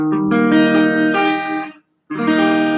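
A guitar barre chord strummed and left ringing, cut off briefly into silence, then strummed again, loud and close.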